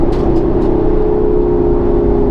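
Ford Mustang with relocated mufflers on a race track, heard from inside the car: a loud, steady engine drone with a strong low tone that holds constant throughout, with no talking.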